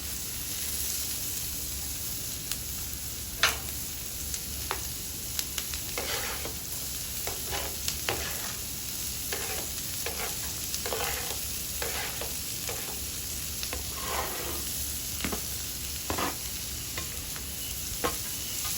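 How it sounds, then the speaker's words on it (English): Onions and jalapenos fry in a pan with a steady broadband sizzle and hiss, broken by repeated stirring scrapes and clicks at irregular intervals, moderately loud and close throughout with no talking. "I'm going to go ahead and drop these onions and jalapenos in the back here."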